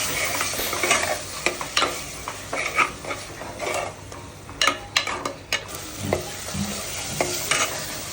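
Masala paste for Malvani mutton frying in oil and being stirred, with a steady sizzle broken by repeated scraping and clinking strokes of a spoon against the pan, close and clear with no talking.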